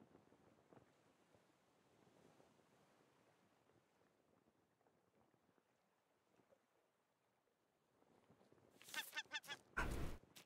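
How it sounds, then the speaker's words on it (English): Seagull calls from a gull in the video game Waft: a few loud, harsh honking cries burst out near the end after a quiet stretch of soft windy ambience. "Bird. Fucking seagull."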